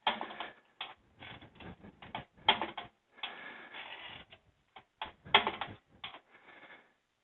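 A CIM M10HE metal tag embosser is worked by hand, giving a quick run of sharp mechanical clacks and ratcheting snaps as characters are punched into a metal tag and the carriage is spaced forward. Close and isolated, with irregular pauses between strikes.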